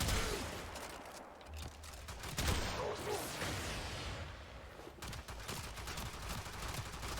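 Kohm and Tigris shotguns blast at close range in Warframe, a dense and loud barrage of booming pellet shots that roars almost without pause through the whole stretch.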